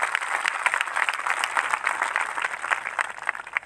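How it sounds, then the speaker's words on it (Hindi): A church congregation applauds loudly, a dense, even wash of many clapping hands sustained throughout at steady volume, with no talk over it. "एक जोरदार ताली प्रभु यीशु के लिए।"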